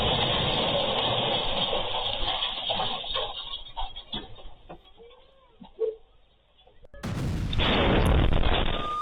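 Explosions from a bombardment in Gaza boom loud and broad, with a roaring blast near the start and another heavy burst after a short quiet gap, sounding fairly close and continuous.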